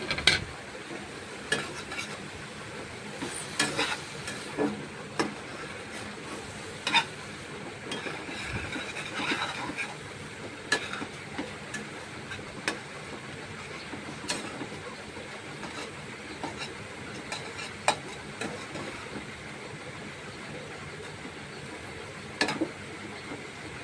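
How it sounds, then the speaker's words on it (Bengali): Chopped garlic and bottle gourd shoots fry in a pan with a steady, moderate sizzle. Scraping and clattering stirring strokes recur irregularly throughout, with no talking. "এখন রসুন কুচি দিয়ে দিচ্ছি"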